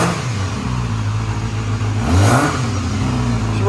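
Four-cylinder Honda CBR250RR (MC19) barn-find motorcycle engine running after 18 years, a steady close engine note that swells into a brief rev near the end, heard alone.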